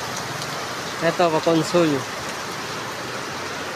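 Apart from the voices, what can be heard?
heavy rain pouring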